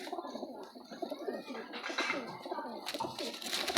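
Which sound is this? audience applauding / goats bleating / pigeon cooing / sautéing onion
pigeon cooing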